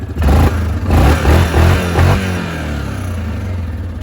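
A 2021 Yamaha Kodiak 700 EPS ATV engine, loud and low, revs in a few quick bursts, then settles back to a steady idle. No voices are heard.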